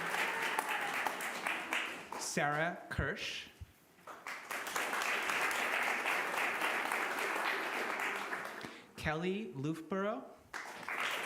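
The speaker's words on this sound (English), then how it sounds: "We can clap for her here." Congregation applause at a Sunday service rolls on in sustained waves while a speaker reads out names at a distance, the clapping briefly dipping between announcements before swelling again.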